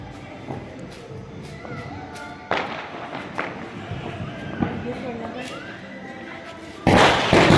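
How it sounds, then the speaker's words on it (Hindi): Diwali firecrackers go off during a household celebration: a few sharp, fairly close bangs, then a louder crackling burst near the end, with voices in the background. "एक साथ और फिर जलाए हमने ढेर सारे पटाखे।"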